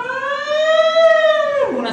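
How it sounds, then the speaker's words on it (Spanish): A single siren wails close and loud, holding a steady pitch before sliding downward at the end, heard alone without talk. "una sirena, que alguien estaba intentando cometer algún crimen"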